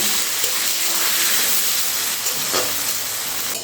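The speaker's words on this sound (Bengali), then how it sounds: "এখন এই ফোড়নের সঙ্গে পেঁয়াজগুলো হালকা একটু বাদামি রং করে ভেজে নিতে হবে" Onions frying in oil with a cumin tempering for a mutton curry, giving a steady, close hiss and sizzle that holds through the clip with a brief stir-like flare near the middle, no talking.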